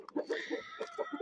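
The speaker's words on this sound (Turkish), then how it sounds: "Yeterince gösterdik bu yeni patçı horozumuzu." A Patçı rooster gives a quick run of soft, rhythmic clucks close up, about ten short pulses in just over a second, with no voices present.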